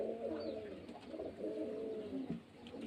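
Pigeons kept at a home pigeon-selling spot in Beldanga coo in soft, low, rolling phrases that overlap continuously, close but quiet, with no talking.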